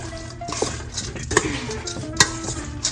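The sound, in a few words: mixing cabbage salad with dressing in a mixing bowl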